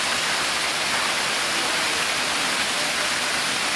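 Water rushing at high velocity through a ProFlex check valve during a flow test, a loud, steady broadband hiss and roar with no letup.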